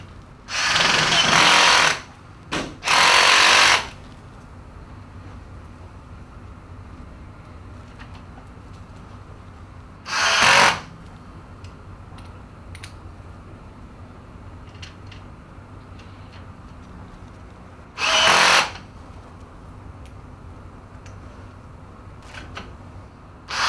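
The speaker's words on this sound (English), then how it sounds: "we're now going to put screws into all of the foot plates on the other parts" Power drill driving screws into metal foot plates of a chassis, four short, loud whirring bursts separated by quiet pauses in a workshop.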